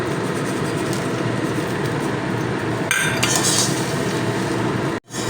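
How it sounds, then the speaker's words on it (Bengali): Semolina pulao with fried nuts and vegetables stirred in a pan, a steady clinking and scraping of the utensil against metal over constant broadband kitchen noise, with a brief louder scrape near the end. "দিয়ে আবারও খুব ভালো করে নাড়াচাড়া করে নিতে হবে তাহলে সুজির মধ্যে সব জায়গায় সবজি বাদামগুলো মিশে যাবে"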